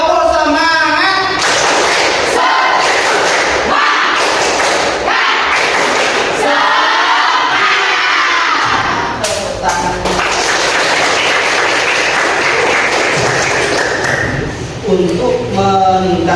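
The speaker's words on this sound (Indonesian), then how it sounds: "Kita tepuk dulu. Oke? Tepuk semangat." A group performs a rhythmic Indonesian spirit clap, tepuk semangat, at a school gathering: steady, close, loud claps in a patterned beat, mixed with voices chanting along throughout.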